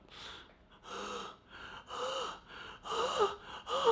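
A voice imitates the ragged, gasping breath of someone dying with a punctured lung, a series of about five close, raspy wheezing bursts with short pauses between, growing louder toward the end.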